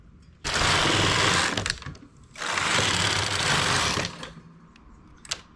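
A domestic knitting machine carriage sweeps across the bed knitting short rows for a shawl collar, two long loud whirring passes with a brief pause between, then a few light clicks.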